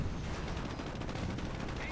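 Tank gunfire aimed at a Panzer IV in a World War II video game battle, a continuous dense clatter of shots and rumbling blasts throughout, loud and close, with speech faintly mixed in.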